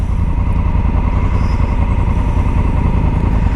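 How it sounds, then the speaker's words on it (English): A brand new 250 Domina motorcycle being broken in on a forest trail near Bangalore. Its engine gives a loud, close, unbroken throbbing drone with a fast, even pulse. "That's Jacob on his 250 Domina. It's a brand new bike"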